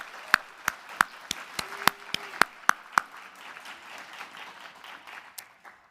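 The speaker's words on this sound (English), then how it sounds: "Can we have a round of applause for all of our honorees?" Applause for honorees at an awards gala, opening with a run of loud, evenly spaced close claps that give way to a softer, spread-out clapping from the audience as it fades.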